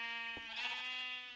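A Minecraft sheep bleats once in the game, a wavering, tonal bleat over a steady hum of game background sound.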